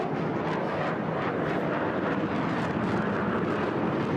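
An HAL Tejas fighter jet roars past at an air show in Bahrain, a steady loud broadband engine rush with no talk.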